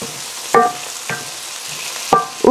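Chili oil is stirred into a pan of scallion chicken: three or four short scraping, sizzling strokes of the utensil, close and fairly loud, with quiet gaps between them.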